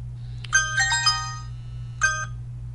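Incoming message alerts on a Pantech Pursuit P9020 phone: a bright multi-note chime melody, then a second shorter chime about a second later, close and clear over a constant low hum.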